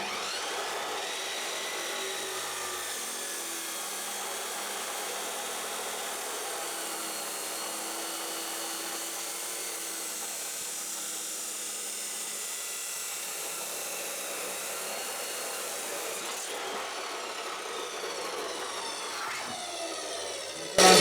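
A power tool cuts down a Borgeson steering shaft during a steering install on a 1980-87 Ford F-series or Bronco, a steady high grinding whine held close for about twenty seconds that shifts near the end.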